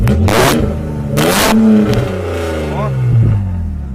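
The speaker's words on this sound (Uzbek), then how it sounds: "mana BMWni ovozini eshitamiz." A BMW E39's engine revs hard in two or three surging bursts, close and loud, with voices talking over and between the revs.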